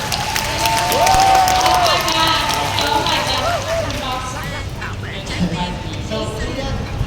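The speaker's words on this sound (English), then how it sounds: "everybody, please give a round of applause to a young singer-songwriter" A live audience claps and cheers to welcome a young singer-songwriter onto a stage show. The applause is steady and loud, with a crowd murmur and some tonal music or voices mixed underneath across the whole stretch.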